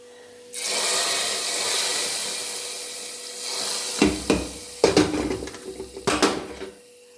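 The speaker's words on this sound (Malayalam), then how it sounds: "മൂപ്പിച്ച് വെച്ച ഉള്ളിയും കടുകും എല്ലാം കൂടെ നമ്മുടെ സാമ്പാറിലേക്ക് ഒഴിച്ചു കൊടുക്കാം" Hot fried onion and mustard seed tempering poured into a pot of sambar, a steady sizzling hiss followed by several sharp clanks of a metal pan and spoon against the pot.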